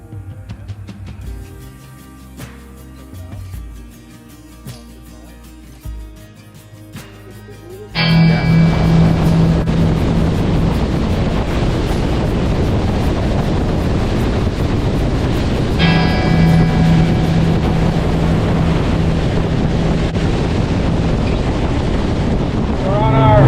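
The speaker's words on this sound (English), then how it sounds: "What a beautiful boat ride." A motorboat engine drones loudly and steadily with heavy wind buffeting on a ride along the Alaska peninsula coast toward a cabin, preceded by quieter ambient sound before the engine surges in.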